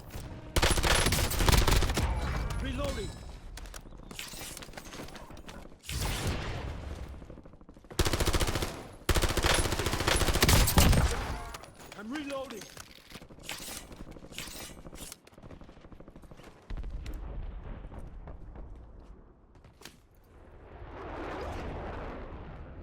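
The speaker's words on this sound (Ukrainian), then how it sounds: "Ось там так точно стріляє снайпи." Loud gunfire in the video game Warzone, coming in repeated sharp bursts and volleys of shots with brief gaps between them, then fading into a softer rumble near the end, with no talking.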